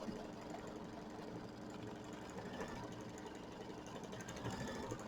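An embroidery sewing machine stitching a mini quilt, running continuously with a dense, even mechanical whir and rapid needle chatter, close and steady throughout without any voices.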